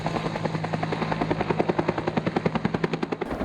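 A logging helicopter flies over a heli-logging site, its rotor thumping loud and steady with rapid, even blade slaps that sharpen and grow more pronounced toward the end, with no talk.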